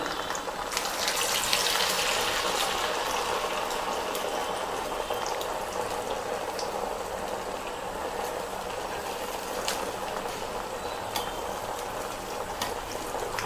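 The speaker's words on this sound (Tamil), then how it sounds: "இந்த மாதிரி மெல்லிசாக தட்டி போட்டு நல்லா வேக வச்சு எடுத்துக்கோங்க" Thinly patted sabudana vada deep-fry in hot oil, giving a steady, fairly quiet bubbling sizzle with occasional crackles throughout.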